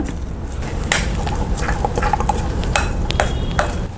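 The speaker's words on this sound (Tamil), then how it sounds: "இது நல்லா கட்டி இல்லாமல் மிக்ஸ் பண்ணிக்கோங்க." Spoon or whisk stirring jalebi batter with added water in a bowl, a steady wet scraping swirl with scattered clinks against the bowl's sides, close and continuous with no talk.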